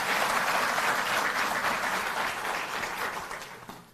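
A large audience claps loudly and continuously at a Delhi Jal Board staff ceremony attended by the Delhi chief minister, a dense, even wash of applause that holds steady and tapers slightly toward the end.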